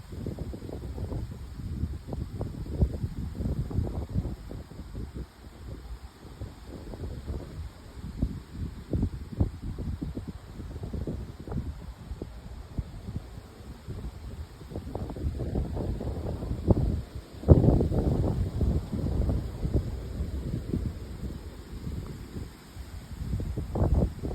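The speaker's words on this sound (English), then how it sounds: "Ooh, listen to the wind." Wind blows outdoors in strong buffeting gusts against the microphone, low rumbling bursts that swell and fade unevenly, loudest in a surge about two-thirds of the way through.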